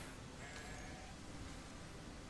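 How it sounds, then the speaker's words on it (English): A sheep in the video game Grow Home gives a brief, wavering bleat near the start against a loud, hissing game background. "I'm just dragging a sheep up the hill, as you do."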